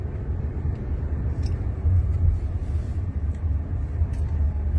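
A driverless electric taxi pulls away under steady acceleration, giving a smooth low rumble of tyres and road noise with no engine note, continuous and fairly close.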